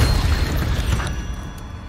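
A Confringo spell in Hogwarts Legacy lands as a single loud, deep boom that rumbles and slowly fades over about two seconds, with no voices.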